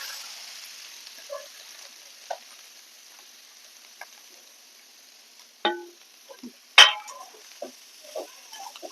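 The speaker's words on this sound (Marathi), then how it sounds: "तूप छान आपलं गरम झालेलं आहे आपण हे खिसलेलं गाजर घेतलेले आहे आता ते ह्याच्यात टाकून देऊया" Grated carrot dropped into two spoons of hot ghee for carrot halwa, giving a soft steady sizzle with scattered clinks and a louder burst of frying and stirring partway through, close up with no talking.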